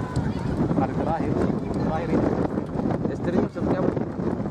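Strong wind buffeting the microphone on Rangas Beach during extreme weather with big waves, a loud continuous roar and rumble of gusts and surf, alone without talk.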